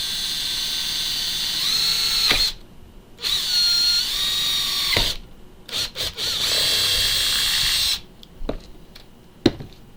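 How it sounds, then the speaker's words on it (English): A power drill whines in several bursts of a few seconds each, drilling a screw hole in a clamped holster, with short pauses and clicks between runs, close and loud. "I am going to drill the hole for the screw"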